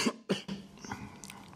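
A man's coughing fit while recovering from a fairly bad flu: a sharp cough, a second cough a moment later, then quieter throat-clearing noises trailing off, close to the microphone and with nobody speaking.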